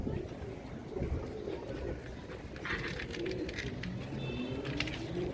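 Domestic pigeons coo softly and continuously in a group, a low murmuring burble under steady background noise.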